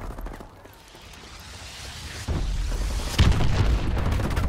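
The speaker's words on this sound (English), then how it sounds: "Friendly missile strikes inbound." Missile strike explosions in Call of Duty: Advanced Warfare land as deep booms, one sharp blast followed by another heavier one a second later, over a continuous low rumbling battlefield roar.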